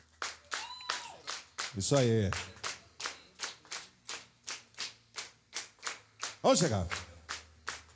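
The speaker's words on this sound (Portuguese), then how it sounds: "Vamos bater palmas" Hands clap in a steady, even rhythm along with live samba and partido alto at a bar, each crisp clap clearly spaced, while voices call out between them.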